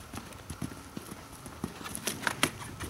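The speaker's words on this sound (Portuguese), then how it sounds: "Pode fazer ele partir pro galope" Horse hooves clip-clop at a rural festival, a quick uneven rhythm of hoof strikes that is fairly faint with some background noise.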